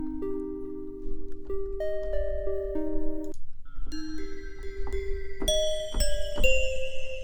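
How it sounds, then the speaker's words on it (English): Bell sound samples play one after another in beat-making software, a series of clear tuned chimes and dings at varied pitches, some ringing out in overlapping tones. "Let's go ahead and look in bells and stuff."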